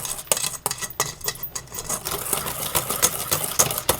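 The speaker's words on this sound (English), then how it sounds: "Then I'm gonna mix this on up here just like this." A spoon or whisk clatters rapidly against a mixing bowl while egg pie filling with vanilla extract is stirred, producing quick, uneven clinks and scrapes close by, with no talking.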